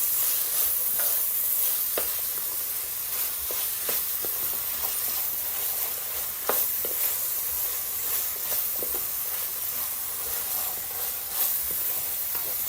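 Cabbage with mustard simmering in a pan, a steady broad sizzle and hiss with faint scattered pops and bubbling, continuous and close, with no voices.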